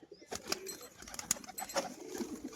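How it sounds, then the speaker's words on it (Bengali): Racing pigeons, a pair kept for sale, cooing softly in a loft, with low murmuring calls and some wing rustles under a busy background. "নিচে বাজির পায়রা"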